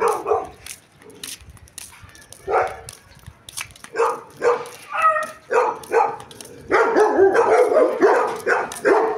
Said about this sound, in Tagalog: Wala ito, daming aso.